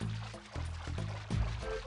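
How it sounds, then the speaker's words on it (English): Donkey Kong 64 chime for collecting 100 colored bananas: a short, quiet run of stepped musical tones plays alone for under two seconds. "That's the 100 banana sound effect."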